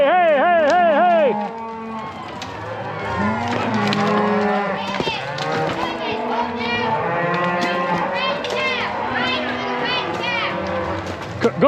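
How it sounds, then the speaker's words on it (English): A herd of cattle moos loudly and continuously during a cattle drive in wild mountains, with many overlapping calls near and far and occasional human shouts among them. "it was so loud with the cows"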